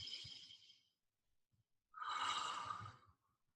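Two loud, breathy exhales through the mouth, the second longer and stronger, separated by a quiet pause.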